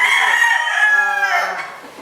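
A gamecock rooster crows once, loud and close, in a long harmonic call that rises, holds and then trails off.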